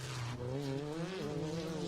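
A Class 1 off-road race car in the NORRA Mexican 1000 rally in Mexico drones past at a distance, its engine tone rising and falling steadily with no voices over it.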